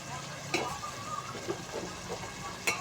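Dal mash with green chillies and ginger is stirred in a hot pan, a soft continuous sizzle broken by a few sharp scraping clinks of the spoon, close and fairly quiet with no talking.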